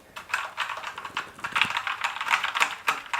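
Keys being typed on a Sharkoon Skiller Mech SGK1 mechanical keyboard: quick bursts of crisp clacks in an uneven rhythm, close and clear, with no talking.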